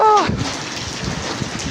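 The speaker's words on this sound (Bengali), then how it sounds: "এমন বৃষ্টি হয়েছে চলতেছে সন্ধ্যার পরের থেকে সারা রাত" Heavy, steady rain pours down at night in Bahrain, flooding the roads. A brief voice is heard at the start, then the dense wash of falling rain continues alone.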